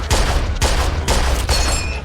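Rapid bursts of gunfire crackle in repeated volleys in the video game Mafia II, loud and close, with brief gaps between the salvos.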